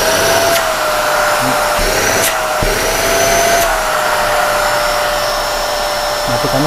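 A Deerma DEM-DX700S vacuum cleaner runs with a loud, steady motor whine and rushing airflow, a constant close drone with faint clicks and shifts in tone, and no talk.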